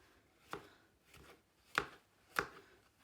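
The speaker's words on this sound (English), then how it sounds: "I'm going to cut that mushroom into slices." A knife slicing a mushroom on a cutting board, giving four distinct, close taps at an uneven pace, fairly quiet with little else around.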